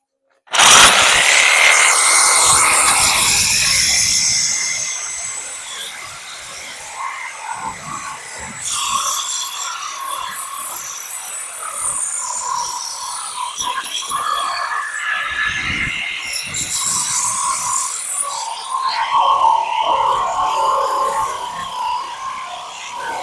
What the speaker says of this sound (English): just cut the metal out of it there